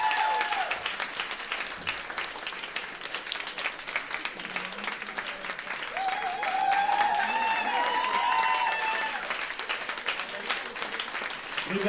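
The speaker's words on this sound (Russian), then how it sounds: "Ребята, они сейчас перестанут хлопать." Concert audience applause: dense, sustained clapping from a crowd that swells slightly in the middle and carries on steadily, with faint voices and stray musical tones mixed in.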